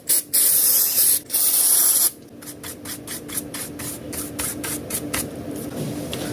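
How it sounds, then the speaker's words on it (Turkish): Contact cleaner sprays into the RAM slots of an HP 15 laptop in two or three sharp hissing bursts, followed by a quieter stretch of rhythmic rubbing or brushing close by. "Rem slotlarını da kontak spreyle temizleyeceğim."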